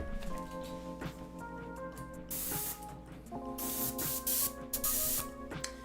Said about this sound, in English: grab the airbrush to help section back out our shadow